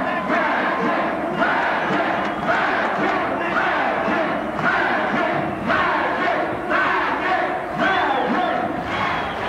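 A boxing arena crowd at a 1984 kickboxing match keeps up a continuous loud roar of chanting and cheering, rising and falling in regular swells.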